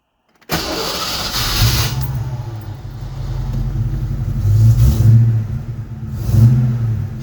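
A car cold-starts with a straight-pipe exhaust fitted with an X pipe, catalytic converters removed: a sharp crank and catch, then a loud, deep rumbling idle that swells with a few blips of the throttle, heard close.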